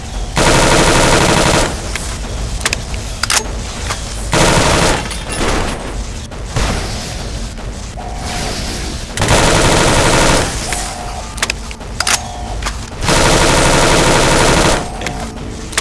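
Heavy automatic gunfire in Fallout New Vegas, loud sustained bursts of rapid fire, mostly armor-piercing rounds, alternating with short gaps and continuing throughout with no talk.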